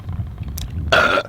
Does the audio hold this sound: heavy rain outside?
no